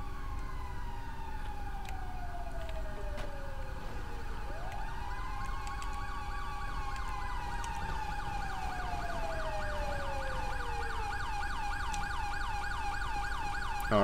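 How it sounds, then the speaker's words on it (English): An ambulance siren in the video game GTA 5 with a police mod, wailing up and down in long sweeping cycles, loud and continuous, with overlapping siren tones layered together and no speech. "Ambulance is responding code 3 along with EMS."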